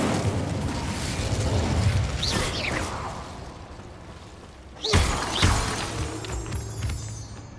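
The Incendio fire spell cast in Hogwarts Legacy, a sudden whooshing burst of flame with crackling and mechanical clatter, following a quieter stretch of rustling game ambience.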